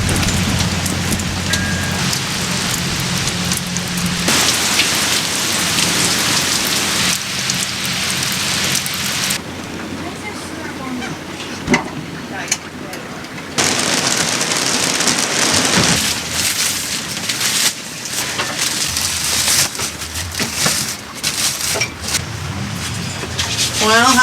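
Steady heavy rain pours down on a boat at a dock in a dense broadband wash, with occasional low rumbles and brief quieter stretches, and a voice faintly present underneath.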